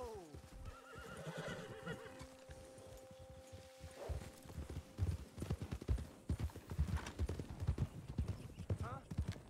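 Horses in Red Dead Redemption 2 whinny and neigh, then hooves clip-clop steadily at a walk, close and clear, with a voice speaking underneath.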